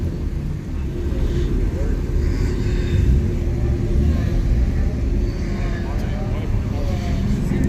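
A car doing a burnout at a car meet in Raleigh, NC, giving a loud, continuous low engine rumble up close, with people talking over it.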